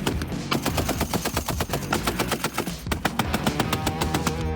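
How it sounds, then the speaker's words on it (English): .50 caliber machine gun firing on a range: a loud, sustained burst of rapid, evenly spaced heavy shots with only a brief gap in the rhythm, close to the listener and without talk. "We're going to be shooting the 50 cal machine gun."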